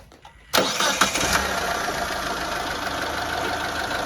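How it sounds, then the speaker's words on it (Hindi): A car's engine cranks and catches to a steady idle, the start burst loud and close after a brief quiet moment, then a continuous even running hum to the end. "तो पहले मैं गाड़ी स्टार्ट करके दिखाता हूँ आपको।"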